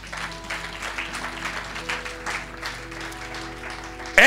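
An audience at a church service claps together in a steady, sustained round of applause, moderately loud and diffuse, with faint background voices and a louder burst at the very end.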